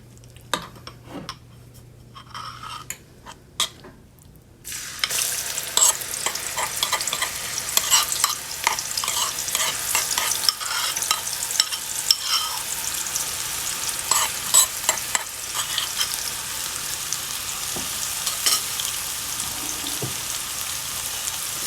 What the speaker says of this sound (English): I'm going to add this to the oil and let this cook until that raw flavor from the curry and the masala is evenly distributed